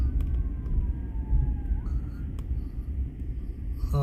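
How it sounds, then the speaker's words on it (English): Siren of an ambulance approaching at night near a parking area, a faint wailing tone sweeping over steady low traffic rumble through the clip. "Oh, I see an ambulance coming."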